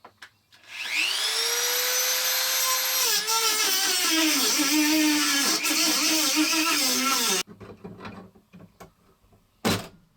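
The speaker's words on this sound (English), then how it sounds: "get my Dremel tool in there and see if I can break the spot welds with a thin blade" A Dremel rotary tool with a thin cutting blade breaks spot welds, its high motor whine rising to speed, holding loud and close with pitch wavering under load, then stopping abruptly before a brief final burst.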